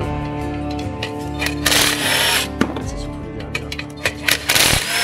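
A power tool unscrews the battery box on a Ford Fiesta ST. Short bursts of close mechanical whirring come and go, with a few knocks and clatters and people talking around it.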